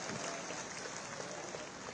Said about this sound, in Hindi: जोरदार ताली बजा के आपका अभिनंदन स्वागत करिएगा।